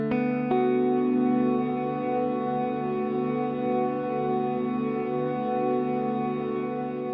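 A Folktek Alter Y effects pedal freezes a tone into a steady, sustained drone after a brief attack, holding a smooth, unchanging chord-like hum throughout.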